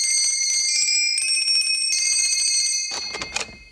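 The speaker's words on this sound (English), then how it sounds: "Rang the bell." A doorbell at a workshop door rings with a sustained, loud bright tone for about three seconds, then gives way to a burst of rattling, clattering noise near the end.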